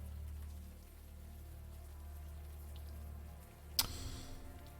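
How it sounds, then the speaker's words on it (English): Warm rain falls steadily in the video game Unavowed, a soft continuous wash of ambient patter, with one brief sharp burst of noise near the end. "the warm rain is coming down"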